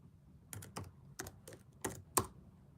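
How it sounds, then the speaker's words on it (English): Someone types a short comment on a computer keyboard, about half a dozen separate key clicks at an uneven pace, close and fairly quiet with nothing else heard. "I'll type a comment in case you guys can't hear me."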